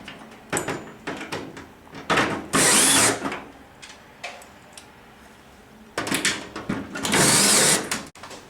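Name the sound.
driving Tek screws through awning hanging channel into stringer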